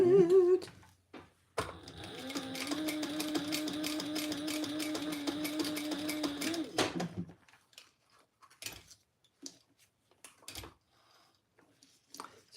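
A sewing machine stitching two rows along a fabric phone pouch, a steady close mechanical whir lasting several seconds, then stopping, with a few soft handling clicks afterward.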